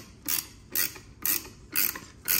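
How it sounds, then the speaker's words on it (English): A hand wrench is cranked to press a control arm bushing out of a BMW E46, giving five evenly spaced ratcheting clicks with a creak, close and loud, with no talking. "we take our wrench and we're just turning this thing, and it's just popping the bushing right out"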